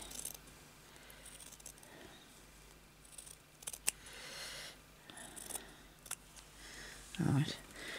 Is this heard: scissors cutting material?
yes